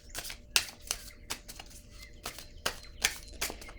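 Oracle cards being shuffled by hand for a surprise reading, giving a series of crisp, close riffling bursts in an irregular rhythm with short pauses between.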